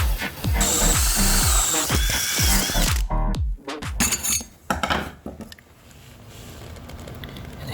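A power drill grinds in a series of loud, close bursts into the wooden floor of an old house, alongside clattering metallic knocks, then stops, leaving faint rustling and low background noise.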